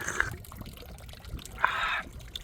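Water from a public fountain in Zurich, Switzerland splashes and trickles in short, moderately loud bursts against a quiet outdoor background.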